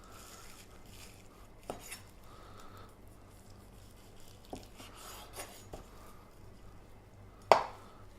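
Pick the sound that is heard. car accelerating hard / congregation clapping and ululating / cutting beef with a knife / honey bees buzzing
cutting beef with a knife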